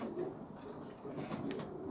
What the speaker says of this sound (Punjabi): ਇਹ ਨਦੀਮ ਗੁੱਜੂ ਸਾਹਿਬ ਨੂੰ ਇਹ ਤਿੰਨ ਕਬੂਤਰ ਹੋ ਗਏ